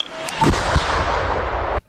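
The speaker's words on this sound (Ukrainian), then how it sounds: "Уявіть, що оцей кожен вибух це в них прилітає" Battlefield explosions and artillery fire from FPV drone strikes on a front line: several sharp, loud blasts land in quick succession over a dense, continuous roar of combat noise that cuts off abruptly at the end.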